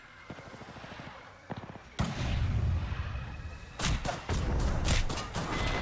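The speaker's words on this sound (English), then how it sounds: "They're shooting at me." Apex Legends match with gunfire: scattered distant pops at first, then a loud heavy blast followed by a rapid burst of close shots, the game's explosive booms dominating.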